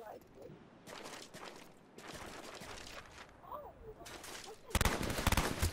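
Gunfire in Call of Duty Black Ops rattles in quick bursts, fairly quiet at first and then louder and denser near the end, with a voice talking over parts of it.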